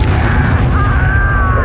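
Loud, dense explosive booming from the Confringo fire spell in the Hogwarts Legacy video game. A sustained roaring blast rumbles heavily throughout, with a whistling tone running over it.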